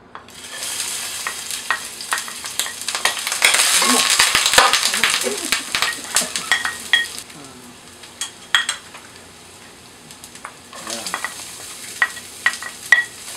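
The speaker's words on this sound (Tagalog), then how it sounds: "Sa isang malinis na kasirola, at sa mainit na oil or mantika, ilagay ang bawang" Garlic sautéing in hot oil in a clean pot, steady sizzle with frequent scraping and stirring clicks, louder in the middle and easing off, no talk, for a Filipino pata kare-kare recipe.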